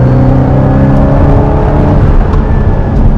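Aston Martin Vantage engine in a PS5 racing game, a steady loud drone with layered harmonic tones, revving and holding under load throughout without any talk.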